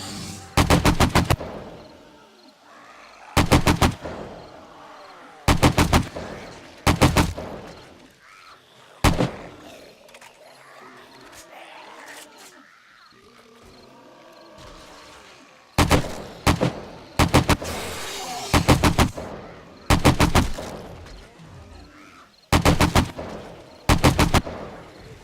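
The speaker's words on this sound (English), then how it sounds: "So let's get my assault rifle on the job." An assault rifle fires in the survival video game 7 Days To Die in repeated loud, sharp bursts of rapid shots. Quieter gaps between the volleys carry faint background game sounds.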